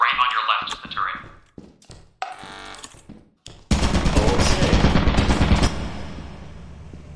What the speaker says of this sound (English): So right on your left is the turret.